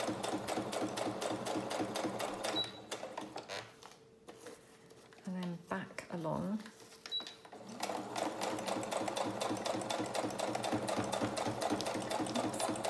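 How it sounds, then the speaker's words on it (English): A sewing machine stitches a fabric and lace cluster for a junk journal, with a rapid, steady mechanical whir that stops briefly midway for some handling and rustling, then resumes. The stitching is quiet and close. "So I'm just going to stitch this, but I'm going to try and stitch it not over the flower."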